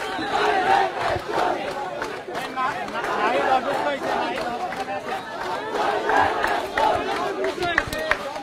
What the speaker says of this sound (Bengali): এখন আবার দেখছি আমরা যে শিক্ষার্থীরা কিন্তু আবারও স্লোগান দিচ্ছে